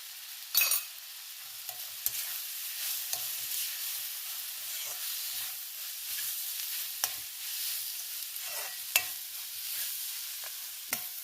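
Pepper and coriander seeds dry-roasting in a pan, a faint crackling sizzle punctuated by repeated scraping stirs and small clicks of the spoon, no voices.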